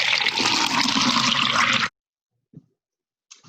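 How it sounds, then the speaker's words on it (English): Water is poured from a fishbowl into a container in a steady, loud splashing stream for about two seconds, stopping abruptly, followed by a couple of small drips and a brief trickle. "Empty the container and continue pouring until the fishbowl is empty."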